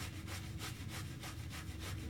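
A damp shaving brush rubs steadily across a lather shaving soap with rhythmic back-and-forth strokes, a close, continuous scratchy swishing with no talk.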